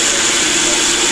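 A blender grinds about a cup of regular brown rice into powder, giving a steady, loud whirring roar with no letup and no voices.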